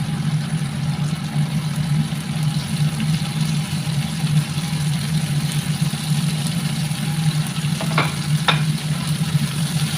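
Onions and garlic fry in a pan, a steady close sizzle with a low hum running throughout and a couple of brief stirring scrapes near the end.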